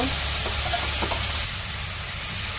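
Chili powder and turmeric for a Bangladeshi village fish curry sizzle hard in a hot pan after a splash of water goes in. The hiss is loud and steady, with a few faint stirring clicks underneath.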